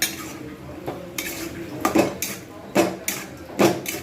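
Chilli and turmeric powder sautéing in a pan for prawn curry, with a spatula repeatedly scraping and knocking against the metal in uneven strokes. The strokes sound close and clear over a low background hiss.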